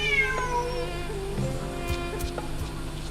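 In Genshin Impact, a cat meows near the start of the clip with a drawn-out, falling call, followed by quieter game ambience and soft background tones.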